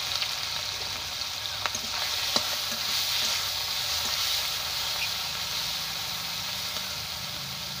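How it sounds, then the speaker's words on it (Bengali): Prawns fry in hot oil in a wok, giving a steady, close sizzle and hiss throughout, with a few sharp stirring clicks and scrapes of a spatula against the pan. "চিংড়ি মাছগুলো ভেজে নেব।"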